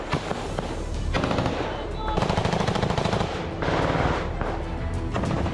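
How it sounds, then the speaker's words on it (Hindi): Rapid bursts of automatic gunfire in a Ukrainian attack on a Russian post near Novovodyane, Luhansk, loud and sustained, with dense rattling volleys overlapping almost without pause. "गोलियों की आवाज से पूरा इलाका थर्रा रहा है।"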